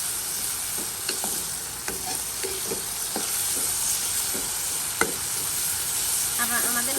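Prawns and bottle gourd stir-fried in a frying pan, a continuous sizzle under irregular spatula scrapes and clicks against the pan, close and fairly loud, without speech.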